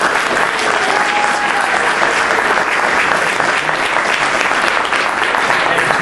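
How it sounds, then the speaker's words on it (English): Loud, sustained applause from a debate audience for congressional candidates, a dense, even wash of many hands clapping throughout. "Just a round of applause to them."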